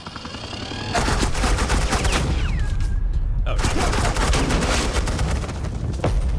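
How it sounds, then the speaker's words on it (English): Suppressing gunfire in the video game Batman The Enemy Within, dense rapid automatic bursts that run almost continuously, with a brief gap partway through, plus a voice in the game. "This is Agent Quinn, suppressing fire."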